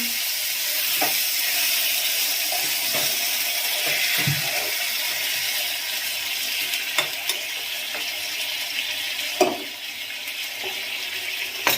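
Water poured into a pan of simmering banana flower and paneer curry, a close steady sizzle and bubbling with occasional soft clinks and stirring knocks.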